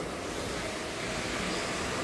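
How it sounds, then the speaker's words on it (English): Water jets spray in a car wash at an automobile assembly plant, a dense, steady broadband hiss that holds evenly throughout with no voices over it. "So this is how the water comes out."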